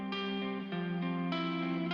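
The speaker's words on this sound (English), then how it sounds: "I love all of this chorusing and space and reverb." Music drenched in chorus and reverb, sustained shimmering chords with a spacious, washy tail, changing chord every half second or so, steady and fairly loud with no voices over it.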